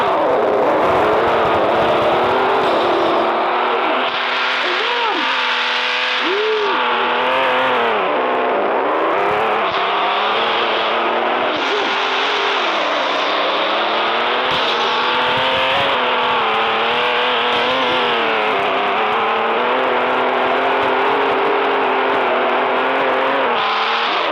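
A car in a video game drives loudly and steadily with engine revving and shifting pitch, some tire squeal, and no voices over it.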